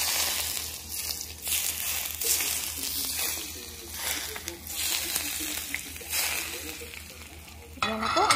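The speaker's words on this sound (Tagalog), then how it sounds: "buhusan po natin ng mainit na mantika para maluto yung ating onion" Hot olive oil poured over spring onion and fish crackles and sizzles steadily, close up, with light stirring and crinkling sounds throughout, ending in a brighter burst of frying.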